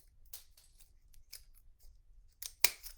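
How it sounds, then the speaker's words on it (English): Scissors snip through pine cone scales, close and quiet, with several short crisp cuts spread out and a sharper, louder snip near the end. "So I just go in there kind of deep, give a nice little snip."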